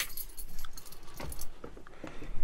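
Close keys jangle in short bursts as a lock is opened from outside with a key, bright metallic clinks and rattles over low background noise, with no talk.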